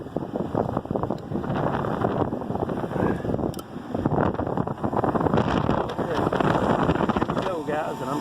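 Strong gusty wind buffets the microphone outdoors beside a rooftop HVAC unit, a steady loud rushing roar with rumbling blasts that runs throughout, with no other clear sound standing out.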